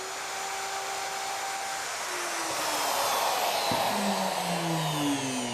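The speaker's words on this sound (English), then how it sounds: "that's the end of the routing" A Bosch router trims the edge of a wooden shed door frame with a loud, steady high whine that runs the whole time and changes pitch as the cutter works the wood.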